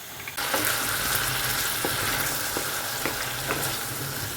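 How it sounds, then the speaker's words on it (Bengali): Pointed gourd (potol) frying in mustard oil in a pan, a steady close sizzle with occasional sharp pops and spatters, continuous and without talking. "এইগুলো তাও ঠিক আছে, ভেজে ফেলি এই কটা"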